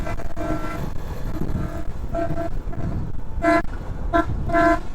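An auto-rickshaw's horn honks on a highway, several short toots in quick succession heard over steady road and engine rumble during a motorbike ride.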